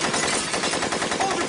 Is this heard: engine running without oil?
no